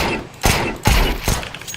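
Ghost pistol shots in the Valorant video game, three close, punchy reports spaced about 0.4 seconds apart, loud and alone with no talk.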